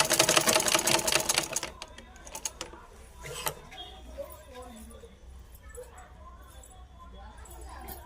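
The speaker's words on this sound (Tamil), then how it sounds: "மெல்லமாக இப்படி மடக்கி மடக்கி தையுங்க" Sewing machine stitching folded silk fabric for a one-year-old's dress, a loud close burst of rapid stitching at the start, then quieter intermittent machine sounds while someone talks.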